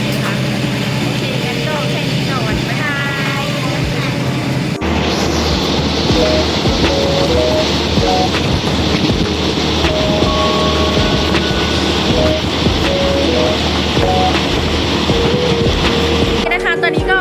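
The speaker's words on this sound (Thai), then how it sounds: "บรรยากาศรถไฟก็ประมาณ" Steady rumbling ambience aboard a Thai train travelling to Ayutthaya, loud and continuous, with rattling carriage noise and occasional tonal squeals over the din.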